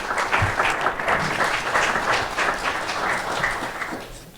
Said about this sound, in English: So we're going to do applause after each of the openings